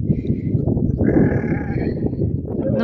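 A sheep in Wales bleats in a long, wavering cry, close and fairly loud over rumbling background noise, with a fainter bleat just before.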